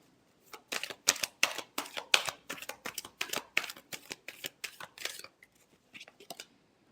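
A deck of tarot cards is shuffled by hand in quick, rhythmic riffles, many crisp papery flicks in rapid bursts close to the microphone, with the pace slowing toward the end.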